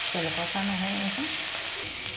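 Mustard and poppy seed paste with green chilli sautés in a pan, giving a soft continuous sizzle as it is stirred, with a brief tonal voice-like sound partway through.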